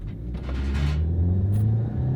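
A Ford Escape with all-wheel drive and a small 1.6-litre turbo engine accelerates from inside the cabin, the engine note climbing steadily and fairly loud over a low road rumble.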